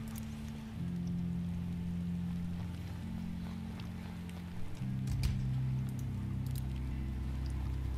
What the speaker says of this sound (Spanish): Está lloviendo, si se dan cuenta